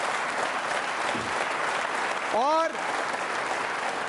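An audience at a state services officers' quiz show applauds in a steady, even patter of clapping, while a speaker's voice briefly cuts through midway.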